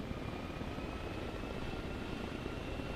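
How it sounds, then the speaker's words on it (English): A burning helicopter left running inside a tower in Arma Reforger gives off a continuous loud engine drone, a broad rumble with a faint steady whine over it. "There's a helicopter inside of the tower that's still on."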